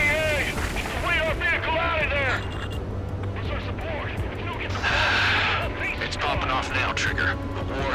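A missile launch and other combat booms from the flight game Ace Combat 7 rumble under radio chatter and sweeping jet sounds. Bursts of voices and whooshes run through the whole stretch.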